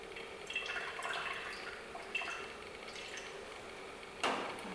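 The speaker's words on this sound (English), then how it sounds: "we are going to wash this off with the distilled water" Distilled water rinsing a microscope slide, with scattered small drips and trickles and one sharper splash near the end, fairly quiet and close.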